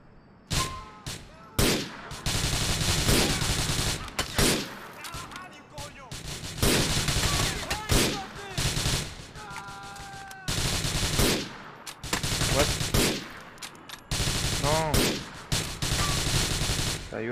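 Gunfire from the video game GTA IV crackles in repeated loud bursts of automatic and single shots, separated by short pauses, with a player talking intermittently over the shooting.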